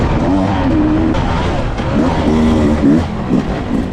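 A dirt bike ridden hard in an enduro race on sandy ground, its engine close and loud with steady revving and short rising pitch sweeps as the rider works the throttle, no talk over it.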